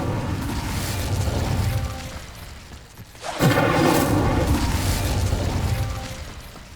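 An Incendio fire spell cast in the Hogwarts Legacy video game: a sudden whooshing burst of flame flares up after a brief dip and then roars on steadily, over game ambience.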